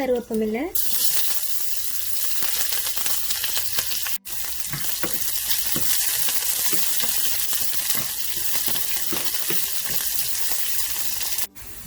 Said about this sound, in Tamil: வெங்காயம் நல்லா வதங்கிட்டுது.